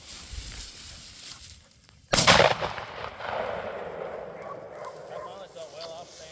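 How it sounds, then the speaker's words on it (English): A single sharp shotgun blast cracks out during a quail hunt in Tennessee with young bird dogs, loud and close, followed by a lingering echo and rustling; a person speaks quietly before the shot. "Good shot, Kenzie."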